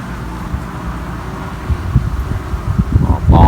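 Gusty wind buffets with a low, rumbling roar that swells and grows stronger toward the end.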